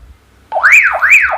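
A Baofeng BF-21L handheld radio sounds its alarm after a long button press: a loud, steady, close warbling siren tone that rises and falls in smooth repeated sweeps, starting suddenly after a short quiet moment.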